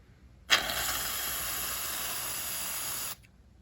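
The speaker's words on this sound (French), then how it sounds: "Maintenant, on verse la mousse à raser." Shaving foam sprayed from an aerosol can for homemade slime gives one steady, loud hiss lasting about two and a half seconds, starting sharply and cutting off cleanly, with no talking.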